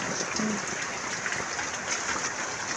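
A dense, unbroken roar of heavy Typhoon Verbena rain falls near a house where water is flooding, with a brief faint voice-like tone early on.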